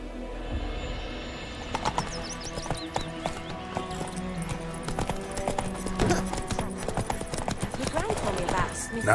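Roach, a horse in the video game The Witcher 3, trots with a steady clip-clop of hooves, up close and fairly loud, mixed with other in-game sounds and voice-like background.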